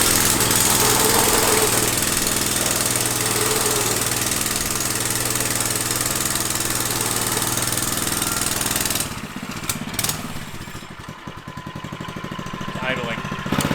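A large flea market engine fitted to a mini bike drones loudly and steadily, then drops to a rougher, uneven idle with faint voices nearby.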